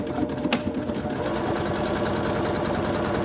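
A sewing machine runs steadily while stitching along the side of a children's fitted fabric mask, a continuous close mechanical whir for the full stretch with a brief clack near the start.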